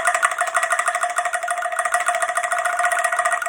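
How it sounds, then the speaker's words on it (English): A Malaysian bamboo percussion rattle is shaken steadily, giving a continuous, close, buzzing clatter with a ringing pitched tone and rapid tremolo, alone for the whole stretch. "this instrument is a percussion instrument from Malaysia, and it is made out of bamboo. And when I shake it like this, it sounds like rattling bones"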